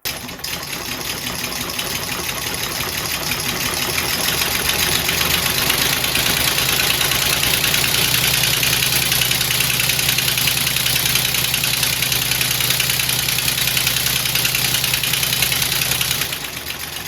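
A modified radial three-cylinder air engine runs steadily but choppily with its timing off, giving a continuous close, loud mechanical chugging with an uneven beat and hissing air, lasting the whole stretch without voices.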